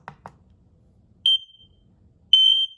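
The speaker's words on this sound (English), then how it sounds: "When one unit is triggered, all of the connected units will alarm." X-Sense smoke and carbon monoxide detector alarm sounding two loud, sustained high-pitched beeps in a room, each lasting roughly a third of a second, preceded by two short button clicks.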